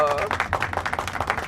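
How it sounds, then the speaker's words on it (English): A small group claps at a live comedy show, with brief irregular handclaps trailing off after a short voice at the start. "This is where we drop in all the applause."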